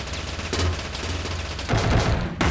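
Rapid bursts of video game gunfire from Teleglitch, loud and close, firing in dense fusillades with a brief break and a heavier burst near the end, with no talk over it.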